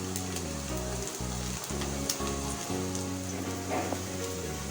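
Rice cutlets frying in a pan of hot oil give a steady, dense sizzle and crackle throughout, with a low background hum and brief dips.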